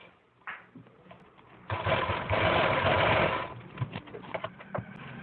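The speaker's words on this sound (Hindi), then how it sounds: "यहाँ से सिलाई लगाना स्टार्ट करेंगे" A sewing machine runs a burst of stitching on a Patiala salwar, a steady close whirring run of about two seconds set between quieter handling clicks and fabric rustles.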